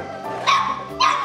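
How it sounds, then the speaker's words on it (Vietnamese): A dog barks twice in quick succession outdoors, two sharp yips over low background noise, moderately close, with no talking. "Nó sủa kìa."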